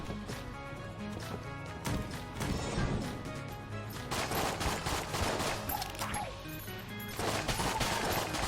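A Colt 1851 revolver firing repeatedly in the game Enter the Gungeon, sharp cracks in quick bursts, mixed with impact crashes and other game effects over a busy background.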